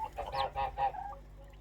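Young turkeys calling on a farm, three or four nasal honking calls in quick succession, close and clear with no talk.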